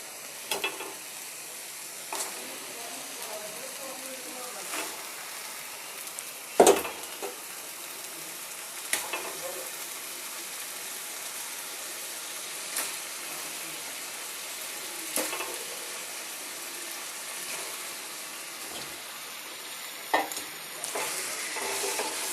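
Marinated chicken frying with softened onions in a pan for Punjabi-style chicken gravy, a steady close sizzle running throughout, broken by occasional scraping stirs and small clanks of the spoon.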